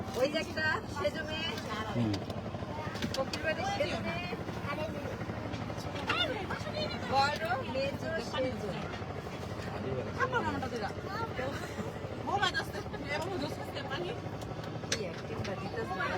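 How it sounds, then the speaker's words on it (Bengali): A trawler boat's engine drones steadily throughout as it sets off, a low continuous motor hum with people talking over it. "এই যে ট্রলার ছেড়ে দিছে"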